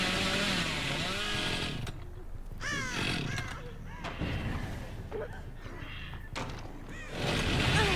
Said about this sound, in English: Decide to chainsaw the injured once again for additional flex